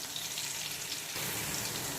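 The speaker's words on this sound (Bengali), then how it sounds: "এখন আদা, রসুন আর কাঁচা লঙ্কা কুচিটাকে হালকা কালার করে ভেজে নেব" Chopped ginger, garlic and green chilli fry in ghee in a pan, a soft, steady sizzle that stays faint and continuous and grows slightly brighter partway through, with no talking.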